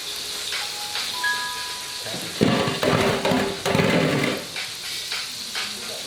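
A big steak sizzling in a pan, a continuous crackling hiss that swells into louder bursts of spatter in the middle before settling back to a steady fry.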